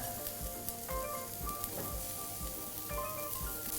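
Mushrooms sizzle in oil over high heat in a pan for a vegetarian Thai basil stir-fry, a close, steady crackle and hiss punctuated by occasional soft scrapes and taps from stirring, with no talking.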